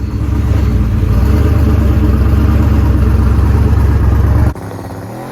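A Ford Falcon drag car roars down the drag strip on a pass, its engine a loud, steady, close-up drone for several seconds before cutting off abruptly into quiet.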